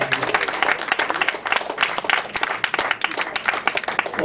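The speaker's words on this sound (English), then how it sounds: "Give the Lord a hand clap tonight." A church congregation claps hands in praise during a worship service, loud, lively applause with sharp individual claps standing out, sustained throughout without any talking.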